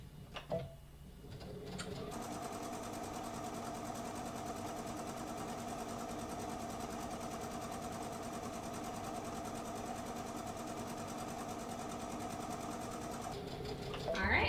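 A sewing machine running steadily as it stitches and back stitches fabric, a continuous close mechanical whir that starts abruptly and stops near the end, with a faint bird cooing in the background.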